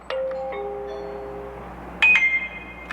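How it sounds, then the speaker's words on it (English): A Globe camera doorbell chimes close by: a pair of sustained tones that step down, then after a short pause a brighter bell-like chime rings out again and fades, with no talking. "doorbell is ringing"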